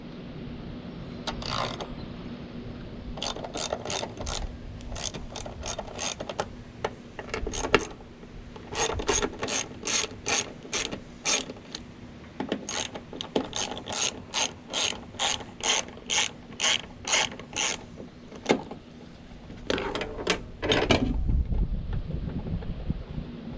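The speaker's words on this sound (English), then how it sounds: "we can go ahead and grab a 10mm socket with an extension" A 10mm socket ratchet with extension loosening nuts on a Mercedes W140 EZL module, heard as many sharp, close clicking bursts in a steady back-and-forth rhythm, with short pauses between runs over a faint background hum.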